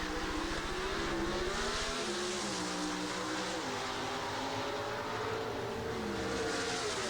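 An Oldsmobile drag racing car at the 1988 NHRA Showcase of Champions roars steadily through a 7.39-second quarter-mile run at over 186 mph, a dense, continuous engine drone with shifting pitch and no voices.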